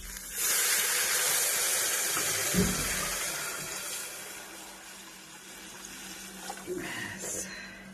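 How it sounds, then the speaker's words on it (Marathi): Water poured into cooked red and yellow dal gives a steady hissing, steaming rush that runs throughout and slowly fades, with a soft thump midway and a brief spray near the end. "ते आता मी टाकते ह्याच्यात पाणी"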